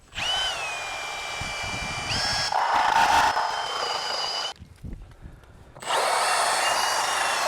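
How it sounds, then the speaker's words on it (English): A power drill whines at a steady pitch while drilling into vinyl siding, shifts higher partway through, pauses briefly, then spins up again, close and loud with faint plastic rubbing. "in case you've never drilled into vinyl siding before"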